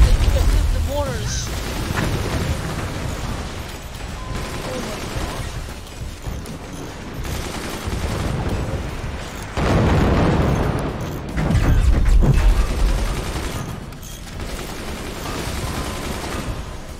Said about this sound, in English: They can shoot directly up and get through the mortars.